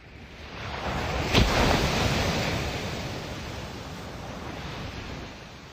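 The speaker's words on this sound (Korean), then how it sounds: "두꺼운 철판으로 만든 커다란 드럼통을 울리는 것처럼 억센 파도 소리가 들리는 바닷가에서" Strong ocean waves break on a beach at night, a loud, continuous roar of surf with a sharp crash near the start, then a steady wash that slowly eases, with wind noise and no voices.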